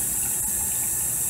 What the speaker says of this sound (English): Now it's bad enough that hardly any water comes out to rinse your hands, but it has a very short duration.